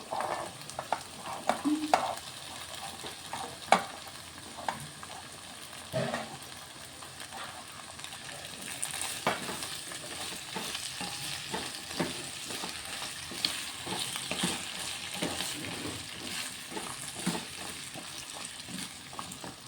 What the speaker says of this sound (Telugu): ఆనియన్ ఫ్రై అవుతున్నాయి. ఇప్పుడు కట్ చేసుకున్న ఆలుగడ్డలు వేసుకుంటున్నాను.